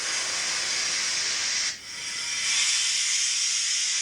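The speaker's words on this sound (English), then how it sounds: "You can brake the locomotive." Steady loud hiss of a model locomotive's brake from a DCC sound decoder, dipping briefly in the middle before resuming at full strength.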